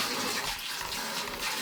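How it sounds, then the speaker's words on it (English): Water running from a tap in a camper van during its first plumbing test, a steady continuous rush of flowing water that fills the whole short stretch without any voices. "we are about to test our water for the first time"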